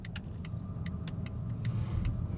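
A 2019 Volvo XC60 2.0 D5 PowerPulse R-Design Pro automatic AWD drives along, a steady low road and engine rumble with faint clicks from inside the cabin.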